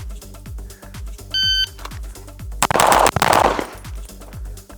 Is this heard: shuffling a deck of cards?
no